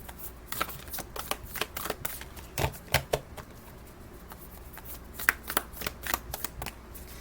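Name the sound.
shuffling a Beyond Lemuria oracle card deck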